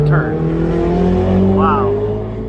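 A fast car holds a steady engine drone through a turn on the track at Speed Vegas, loud and close with a slight rise in pitch, while a voice talks over it.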